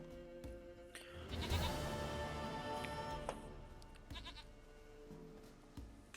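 A goat in The Witcher 3 bleats in a few wavering, nasal cries, close and fairly loud over a soft game background.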